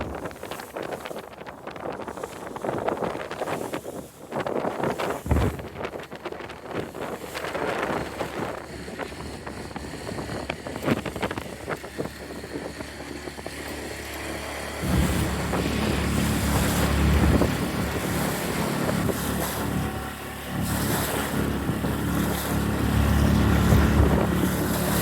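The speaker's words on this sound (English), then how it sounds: "I've got a full day of motoring to windward today." Small cruising sailboat motoring to windward through rough water, a steady engine drone under heavy gusting wind buffeting the microphone, with waves slapping and the hull bucking; the engine and water grow louder in the later half.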